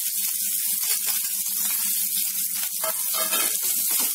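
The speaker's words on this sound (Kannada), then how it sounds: "ಮೀಡಿಯಂ ಫ್ಲೇಮ್ ನಲ್ಲಿ 1¼ ನಿಮಿಷದಷ್ಟು ಫ್ರೈ ಮಾಡ್ಕೊಂಡಿದ್ದೀನಿ" Spices frying in oil in a pan over a medium flame for a gravy of ladies finger (okra): a steady, close, continuous sizzle with occasional sharper crackles and spits.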